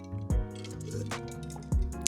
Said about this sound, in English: I just spilled water on my face.